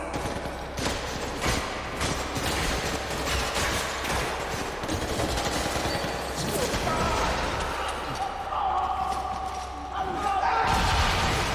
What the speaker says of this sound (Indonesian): Setelah peperangan yang cukup lama, akhirnya ketiga polisi itu sudah mulai kehabisan amunisi